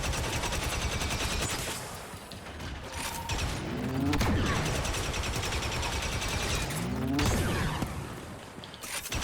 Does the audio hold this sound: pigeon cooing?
no